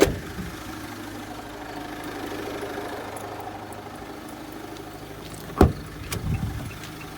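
A 2016 Renault Master van with a 2.3 engine idles steadily with a low, even rumble, close by and fairly loud, with a sharp click or knock near the end followed by a brief rise in noise.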